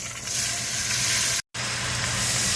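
Diced onion and celery sizzle steadily in melted butter in a soup pot, a close, continuous frying hiss broken by one brief silent gap.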